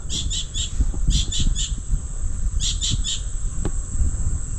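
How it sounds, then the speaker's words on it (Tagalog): A bird gives repeated bursts of three quick, sharp calls at dusk, fairly close, over a low rumble of outdoor background noise near a vegetable garden. "Pati yung ibon ay ginabi na."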